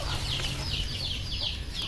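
Native chickens on a farm keep up soft, repeated clucking calls over a steady low rumble of background noise, with several birds sounding at once at moderate distance.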